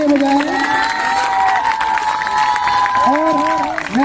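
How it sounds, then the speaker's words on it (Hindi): An audience at a school camp closing ceremony claps and cheers loudly and continuously, with children's voices shouting and calling out over the steady applause. "जोरदार तालियां महात्मा गांधी दल के लिए बजाएं"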